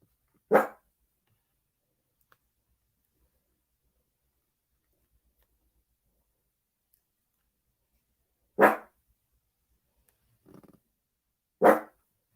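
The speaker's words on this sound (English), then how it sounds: "Sorry about my dog." A dog barks at home in short, isolated single barks, three distinct loud yaps spread over several seconds, close by in an otherwise quiet room.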